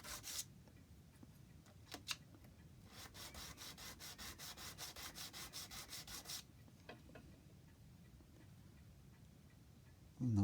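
A small lock part for an antique clock rubs back and forth on sandpaper backed by a wooden block, a fast, even run of gritty strokes that starts and stops. It is close and quiet, with no talk.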